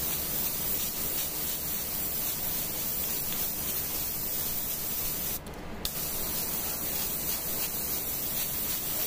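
Airbrush spraying light tan paint onto a Dune Crawler tabletop miniature in a painting studio, a steady close hiss running throughout with a brief sharper burst near the middle, no talk.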